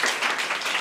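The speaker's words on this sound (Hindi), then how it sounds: "इनके लिए तालियां बजा दो एक बार" Schoolchildren in a government school classroom clap for a classmate, a short burst of quick, overlapping handclaps from a small group nearby.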